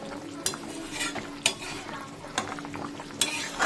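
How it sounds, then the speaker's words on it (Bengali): Cauliflower and potatoes being stirred in a pan, a low frying hiss under four or five sharp metallic scrapes and clinks of the spoon against the pan, close and without talk. "একটু নেড়ে দিলাম।"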